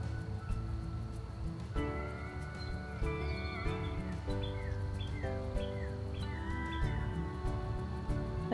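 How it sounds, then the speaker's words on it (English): Outdoor birdsong in the south of North Carolina: several faint chirps and short whistled phrases repeat over a low background hum, soft and somewhat distant, with no talking. "Listen to the birds"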